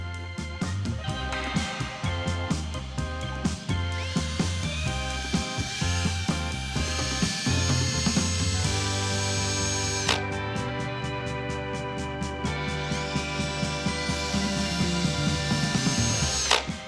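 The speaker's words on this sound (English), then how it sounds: "We're going to put the blue pad on the backing plate that's on the drill." A power drill with a blue foam polishing pad on a backing plate whirs steadily and continuously, its motor pitch shifting slightly as pressure changes, close up with no talking.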